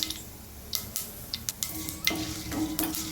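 Fennel seeds, mustard seeds and urad dal sauté in hot oil for a Karaikudi-style sundakkai paruppu pachadi, giving a soft steady sizzle with scattered pops and crackles and a few stirring scrapes against the pan.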